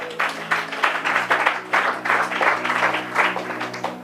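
A church congregation at a Bible teaching breaks into loud applause, dense rhythmic clapping with vocal swells, close and full.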